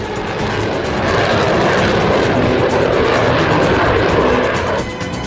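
An F-14 Tomcat jet fighter with twin GE turbofan engines roars loudly and steadily as a broadband jet rumble, sustained throughout and alone, with no speech.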